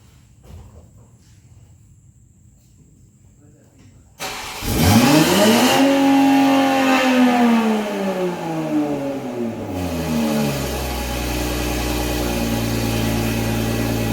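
A Toyota Supra MKV fitted with a Tomei exhaust is silent at first, then cranks and fires loudly, sweeps up through a couple of sharp revs and settles into a steady, rumbling idle close to the microphone.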